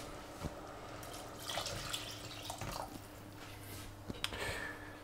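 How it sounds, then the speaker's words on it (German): Tap water runs into a pot of vegetables for a dark vegan sauce, a soft, continuous splash and trickle with a few small knocks, close and quiet, with no one speaking. "Ich werde jetzt einfach hier noch ein bisschen mit Wasser auffüllen."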